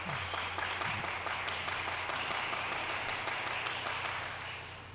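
A Danish crowd applauding at a men's singles badminton final in the Irish Future Series, steady dense clapping from the stands, moderately loud and continuous, tapering slightly at the end.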